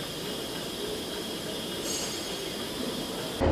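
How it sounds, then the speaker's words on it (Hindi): T18 train standing at Saharanpur station, a steady broad hiss and rumble of the rail car with a brief higher whine partway through, continuous and close. "हम बात कर रहे हैं इस T18 ट्रेन की जो मेरे पीछे है"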